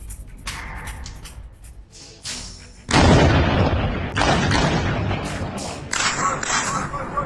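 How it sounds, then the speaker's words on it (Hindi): Airstrikes on the Gaza Strip set off a series of heavy booming blasts with rumbling tails, starting faint and growing loud and dense, some arriving in quick succession. "एक के बाद एक धमाका, जमीन पर आग की लपटें और आसमान में धुएं का गुबार।"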